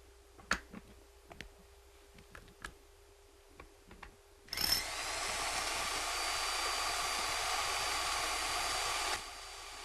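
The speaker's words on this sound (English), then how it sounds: "I'm going to drill on into the concrete with this roto hammer." A few sharp taps and clicks, then a loud, steady mechanical roar of a rotary hammer drilling into concrete with a hard steel bit for several seconds before it stops abruptly.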